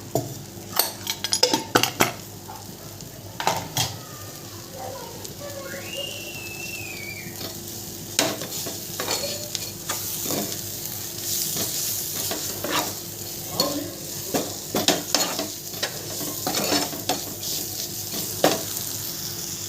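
Chutney of dried fish cooking in a little oil in a pan on a home stove, with steady sizzling broken by sharp clinks and scrapes of a spoon stirring against the metal, plus one brief whistle-like tone, heard close with no talking.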